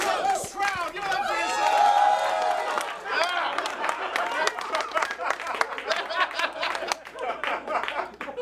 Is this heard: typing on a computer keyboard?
no